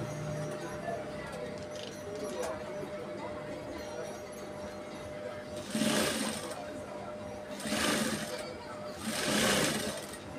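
A sewing machine stitches the seams of a kaftan gown in three short loud runs over a steady background hum, separated by pauses.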